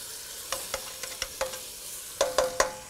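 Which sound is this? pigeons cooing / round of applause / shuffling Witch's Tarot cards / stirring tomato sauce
stirring tomato sauce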